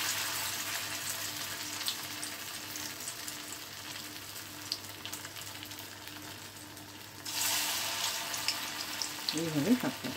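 Chire aloo pakoras of flattened rice and potato frying in oil on lowered heat, a soft, steady bubbling sizzle with light clicks, growing louder near the end.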